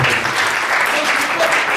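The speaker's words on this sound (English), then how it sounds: "Can we clap for you, Pa?" A crowd applauds, a dense steady patter of many hands clapping throughout, fairly close and loud.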